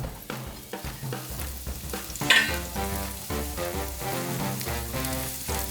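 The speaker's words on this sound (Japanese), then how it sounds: "フライパンが温まったらそこにエリンギを投入。" Sliced king oyster mushrooms hit a hot frying pan and sizzle loudly and continuously, with a brief sharper crackle as they land and a steady hiss afterward.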